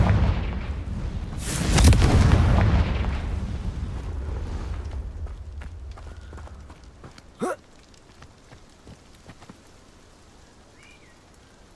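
A Confringo explosive spell in Hogwarts Legacy lands as a loud, booming blast near the start. Its rumble then fades over several seconds, with a sharp crack midway and faint scattered sounds after, and no talking.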